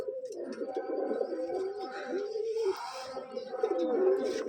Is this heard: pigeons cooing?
yes